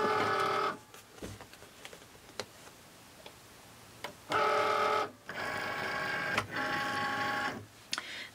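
Cricut Maker cutting machine loading a mat with 1/16 inch basswood, giving bursts of motorized whirring and feeding with short clicks and pauses between them, close and moderately loud with no talk.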